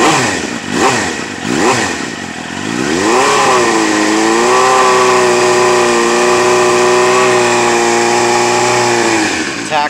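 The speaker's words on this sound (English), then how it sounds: "That Yoshimura pipe actually has a really good sound on it." A 2000 Suzuki GSX-R motorcycle fitted with a Yoshimura exhaust pipe, close and loud: a few quick throttle blips, then a rising rev that settles into a steady, throaty idle.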